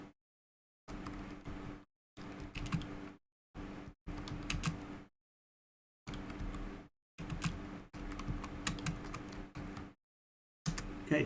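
Bursts of fast typing on a computer keyboard, close and fairly quiet, come in short runs of clicks separated by silent pauses, with no voices.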